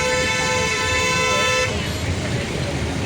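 Steady car horn blares loudly for a second and a half amid heavy city traffic in Hyderabad, then cuts off, leaving the continuous rumble of engines and road noise.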